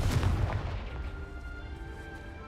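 A Confringo blasting spell goes off in Hogwarts Legacy as a deep, rumbling boom that opens loud and then fades into a long, low tail.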